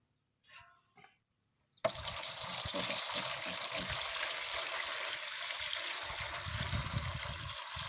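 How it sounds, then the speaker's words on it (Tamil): Warm water poured into a vessel, beginning abruptly after a near-silent opening with a few faint knocks, then a steady, fairly loud gushing stream that continues to the end. "சுட தண்ணி இந்த அளவுக்கு ஊற்றுங்க தம்பி"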